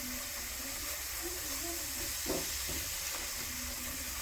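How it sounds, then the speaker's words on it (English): Spices for a prawn bhuna sizzle in a pan during village cooking in Moulvibazar, Bangladesh: a steady, even hiss fills the whole stretch with only a faint disturbance midway. "We're going to cook out the spices for about 5 to 6 minutes."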